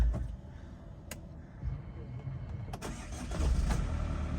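A Chevrolet Captiva 2.2 diesel with 167,000 km cranks and catches, then settles into a steady low rumble up close, with a couple of sharp clicks along the way.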